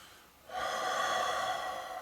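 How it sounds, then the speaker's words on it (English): A deep belly breath during a Raynor massage session, a single long, airy inhalation rising sharply and holding steady, close and fairly loud after a brief quiet moment. "All the while doing deep belly breathing."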